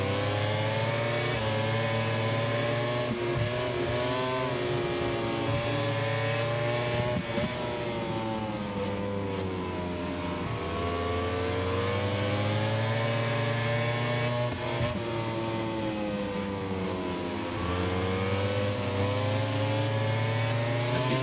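Racing motorcycle engines in MotoGP 25 scream at high revs during an overtake, pitch rising and dipping with gear changes in a continuous loud drone.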